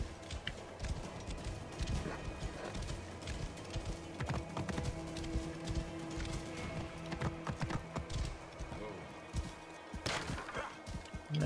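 Horse hooves clop steadily in Assassin's Creed Origins, an irregular rhythm of close, fairly quiet thuds that runs throughout, with a few louder knocks scattered among them.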